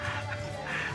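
A chicken perched on a house roof in a muddy rural yard, giving a short, faint cluck or two over quiet background noise.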